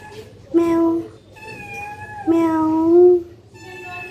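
A cat meows twice up close, each call a drawn-out rising and falling cry, with a quieter meow trailing at the end.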